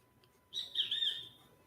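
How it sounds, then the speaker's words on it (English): A single tropical bird lets out a short, high chirping call, faint and somewhat distant, against a quiet background. "maybe you can hear the birds in the background"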